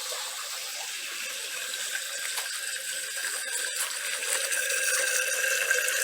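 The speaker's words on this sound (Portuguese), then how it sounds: "Então a bomba, através desse cano, ela leva a água e distribui no nosso sistema." A pump in an aquaponics system moves water through a pipe from a reservoir to fish tanks, giving a steady rushing, splashing flow with faint mechanical ticking, close and continuous.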